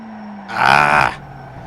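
Mazda Cup race car in a racing game at Laguna Seca, the engine blipped once on downshift: a single short, loud rising-and-falling rev burst of about half a second over a low idle hum.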